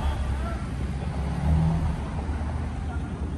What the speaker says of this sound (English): Got a Challenger RT right here rolling up.